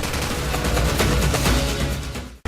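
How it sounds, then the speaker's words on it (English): Light machine gun (SAW) firing full auto in Call of Duty 4, a loud, dense unbroken burst of rapid shots that booms continuously for over two seconds before cutting off abruptly. "Every time you squeeze that trigger, it sounds like a battery of howitzers going off."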